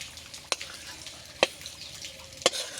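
A spatula stirs fried soybean chunks in a pan: three sharp metallic knocks spaced about a second apart over a soft, low background hiss, close by, with no speech.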